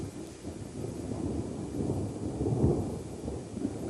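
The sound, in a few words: rain and thunder of a thunderstorm in the Serengeti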